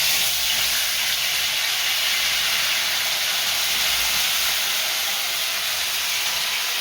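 Cumin, ginger and green chilli paste sizzles in hot oil with a steady, even hiss that holds unbroken from start to finish, close and fairly loud, with no talking.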